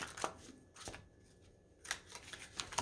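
Tarot cards being shuffled by hand, faint bursts of riffling and flicking that come in short clusters with quiet pauses between them, close and soft.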